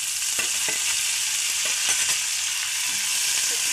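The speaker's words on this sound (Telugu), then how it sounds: "నూనెలో బాగా వేయించుకుందాం." Green chillies, garlic cloves and cumin seeds fry loudly in hot oil for a tomato, coriander and brinjal chutney, with a dense, constant sizzle and occasional stirring taps close by.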